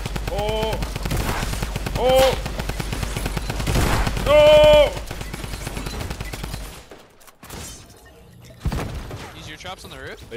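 Tommy guns in the game Fortnite fire in rapid, rattling bursts mixed with other game sounds, while someone talks over them and then the shooting thins out.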